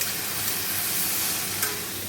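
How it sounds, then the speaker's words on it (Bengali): Yardlong beans and eggplant frying with black cumin, onion and chili, a loud, close, constant sizzle with brief stirring scrapes over a short stretch. "এখানে বরবটি বেগুন কালো জিরে পেঁয়াজ লঙ্কা দিয়ে ভাজা হচ্ছে"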